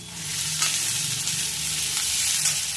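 Chopped onion and slit green chillies with cumin frying gently in hot oil in a pan, a steady close sizzle with light stirring scrapes, continuous and alone.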